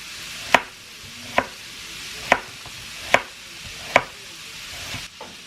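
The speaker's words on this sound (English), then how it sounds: "So I'm just slicing up one onion here" A knife slices through an onion on a cutting board, five crisp, evenly spaced chops close by, then a softer final cut, with quiet room noise between strokes and no talking.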